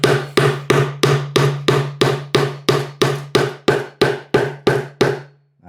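A metal hammer drives a breadboard end joint tight on a workbench top, about thirteen evenly spaced, sharp, close knocks that each ring briefly before the next, with no talking.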